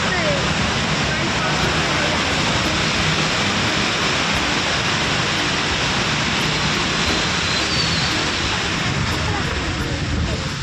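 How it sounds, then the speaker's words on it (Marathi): Heavy rain pours down in a dense, steady hiss with no breaks, loud and close, near a place with a lot of standing water. "पाऊस"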